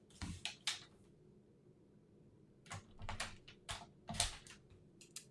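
A paper trimmer cuts cardstock down to 3 1/2 inches, heard as a series of close, sharp clicks and slicing strokes in bursts separated by a quiet pause.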